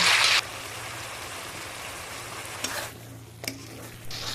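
Spices and a cashew-almond paste fry in hot oil for a cauliflower curry, giving a steady close sizzle broken by a few sharp stirring scrapes.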